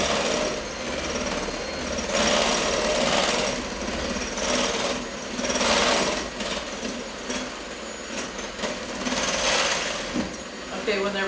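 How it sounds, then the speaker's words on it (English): An electric mixer beats the whites of four separated large eggs in a bowl, a loud, steady whirring and rattling that runs unbroken and rises and falls slightly as the beaters move. "I'm going to beat the egg whites first"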